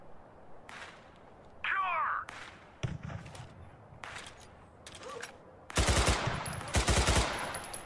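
Pistol fire in the video game Total Conflict Resistance: bursts of sharp shots, loudest and densest near the end, mixed with other game sounds and brief voice.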